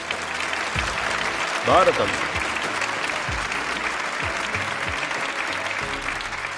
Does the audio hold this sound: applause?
yes